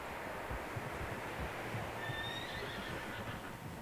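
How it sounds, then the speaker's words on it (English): Horses whinny in the open country of the Red Dead Redemption 2 video game, one high, thin neigh rising over a steady low rumble of wind and hooves, fairly faint and distant. "Horses, quite a few of them."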